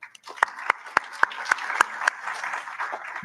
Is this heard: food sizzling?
no